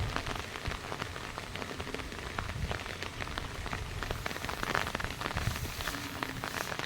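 Rain pours down outdoors in a dense, steady patter on surfaces, holding a constant level throughout with no voices.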